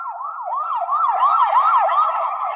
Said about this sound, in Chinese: 怎么会有警车？